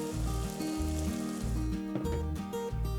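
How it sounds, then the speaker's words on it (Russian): Boiling water is poured into a pot of chopped pumpkin and sautéed onions, a hissing, sizzling wash under steady rhythmic background music. "заливаю кипятком"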